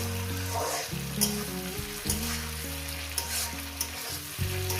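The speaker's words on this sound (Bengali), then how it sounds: "দিয়ে দেবো আমি কাঁচা লঙ্কাগুলো ভাজার মধ্যে দিয়ে দেবো" Green chillies, long beans and potatoes fry in a pan with steady close sizzling, over which a tonal musical backing plays throughout with no voices.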